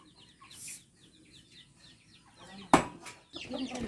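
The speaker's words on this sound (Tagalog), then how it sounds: "Ayan yung mga manok, o." Chickens cluck in short repeated bursts around a rural nipa hut garden, fairly close, with a sharper louder burst near the end and faint voices underneath.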